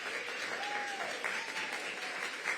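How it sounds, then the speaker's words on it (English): A crowd at an outdoor ribbon-cutting ceremony for a housing community applauds steadily, a dense patter of clapping at moderate distance that continues throughout. "Give the whole team a big round of applause."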